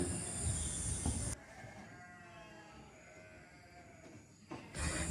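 A sick sheep bleats while being injected in the back of the thigh; the cries are faint and wavering, set against a low background, with louder rustling noise at the start and end.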